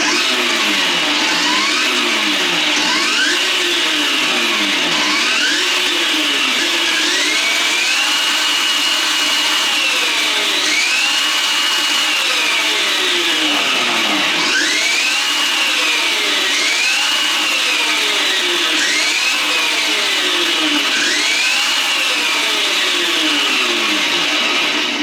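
Homemade electric dirt bike motor running with the rear tire spinning freely off the ground, a loud continuous whine that repeatedly swoops up and down in pitch as the speed rises and falls, with no talk.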